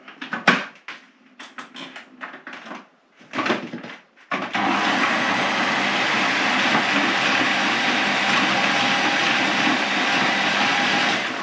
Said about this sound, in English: now I'm just going to blitz them in a food processor